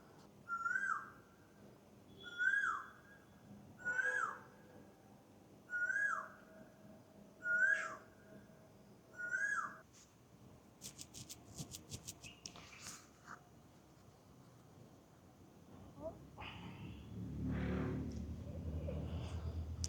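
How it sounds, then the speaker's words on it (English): Wild birds calling in early-morning Manikonda, a series of six clear repeated whistled calls at steady intervals, followed by scattered chirps and rising background noise. "I can hear few bird calls"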